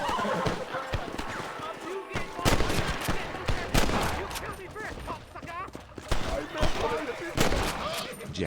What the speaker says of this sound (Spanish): Hay tiros, ¿eh?